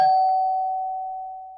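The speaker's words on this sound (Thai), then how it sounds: "ทุกทีที่ฉันกดกระดิ่ง" A cartoon doorbell gives a single bright ding that rings out with a long, clean sustained tone and fades slowly, alone and close.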